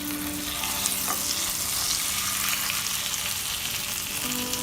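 Fish sizzling steadily in an open pan over a slow flame, a dense crackling hiss with a brief scrape as it is flipped, close and constant with no talk.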